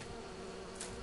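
Bees buzzing in Skyrim, a steady, quiet insect drone filling the short stretch with a slight swell near the end.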